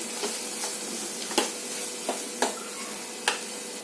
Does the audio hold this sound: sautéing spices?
yes